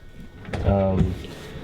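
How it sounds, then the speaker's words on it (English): A wooden drawer slides open in a converted school bus, a single short rolling rumble near and moderately loud, with room tone before and after. "And then I built this next drawer for my business."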